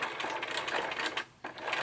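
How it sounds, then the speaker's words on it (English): A sewing machine stitches steadily around a folded fake cuff, catching both folds about a quarter inch from the edge, its close rapid whirring running continuously with one brief pause near the end. "I'm just going to stitch all the way around, and I'm catching both of those folds"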